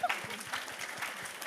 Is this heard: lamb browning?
no